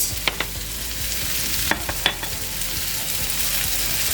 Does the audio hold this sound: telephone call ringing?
no